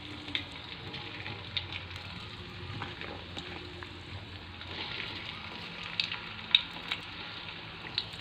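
Food frying in a pan for a home-cooked chicken curry, potato and tofu stir-fry meal: a quiet, continuous crackling sizzle with scattered small pops and light scraping, no talk.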